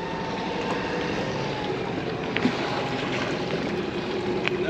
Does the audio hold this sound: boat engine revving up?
yes